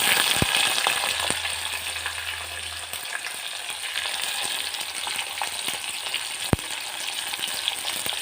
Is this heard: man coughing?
no